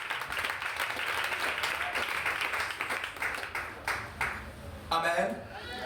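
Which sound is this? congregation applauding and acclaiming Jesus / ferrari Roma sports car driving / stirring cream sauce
congregation applauding and acclaiming Jesus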